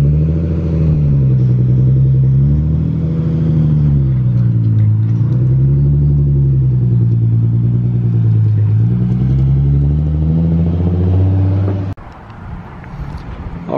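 A turbocharged Acura RSX DC5 idles and blips with a loud, deep exhaust rumble that swells and dips in slow waves, then cuts off abruptly near the end.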